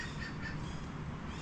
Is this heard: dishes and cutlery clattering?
no